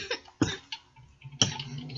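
A few harsh coughs close by, two strong bursts with smaller rasping sounds between them, in an otherwise quiet room.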